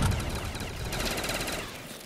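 Dense, continuous gunfire from a Black Ops 3 Zombies match, a rapid rattling burst of shots that keeps going steadily through the whole stretch with no voices over it.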